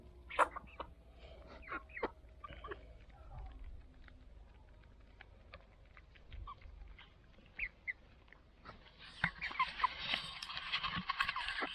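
Soft clucking and chatter from a group of chickens at a village farm in Köyceğiz, Muğla, Turkey, scattered and intermittent, with a denser burst of bird noise near the end.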